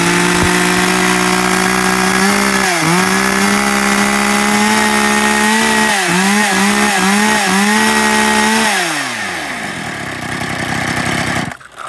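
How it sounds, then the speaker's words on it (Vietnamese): A used Japanese AC6 chainsaw engine runs loudly up close at a steady high idle, dips briefly a few times, then drops off and shuts down near the end. "test nổ tiếng máy con AC6 cho bác"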